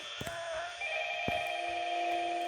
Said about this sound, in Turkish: Aha telefonu telefon çalıyor.